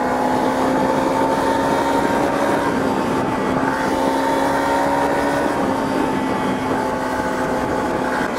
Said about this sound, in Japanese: では少しギアを落としてエンジン回してみたいと思います。